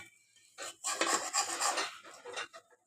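A metal lid clanks and scrapes onto a pan frying an egg on a gas stove, a short close rattle of metal on metal followed by a brief second clink, without talking.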